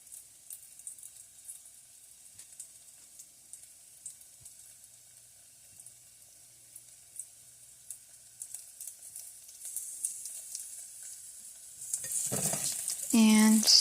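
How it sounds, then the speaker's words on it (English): Navy bean soup with sausage heating in a pot while a spoon stirs it, soft scraping and light sizzle ticking along quietly, growing busier and louder toward the end with a few brief clatters. "stirring that around a bit so everything can cook good"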